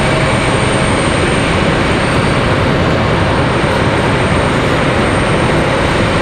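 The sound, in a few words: Breeze Airways airliner touching down at RDU airport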